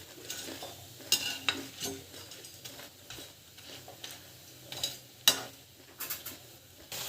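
Food fries in a pan after being turned over, a soft steady sizzle close by, broken by several sharp scrapes and taps of a utensil against the pan.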